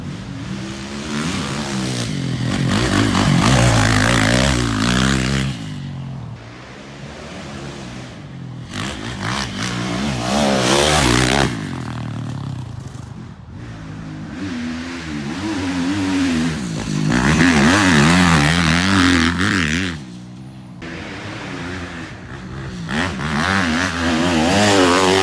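A dirt bike carves through a berm turn, its engine loud and close, revving and dropping in repeated surges as the rider works the throttle through the corner, with no talk over it.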